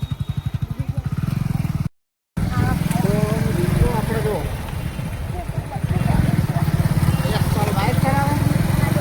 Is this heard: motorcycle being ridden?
yes